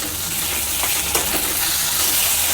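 Ginger garlic paste dropped into hot oil in a pan hisses and sizzles steadily and loudly, with a few stirring scrapes through the continuous frying noise.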